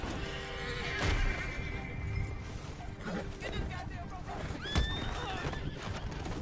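A horse in the online western game Red Dead Online whinnies twice, with a shrill rising neigh near the end, amid game sound effects and clip-clop hooves at moderate level.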